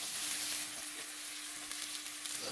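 Pork belly frying in hot oil until golden on both sides, rendering its fat, giving a steady close-up sizzle with light crackles and no talk.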